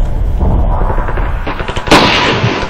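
Gunfire in a Ravenfield shooter game, dense rapid reports rolling continuously with a sharper, louder blast near the end, close and busy throughout.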